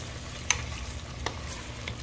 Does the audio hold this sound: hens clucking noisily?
no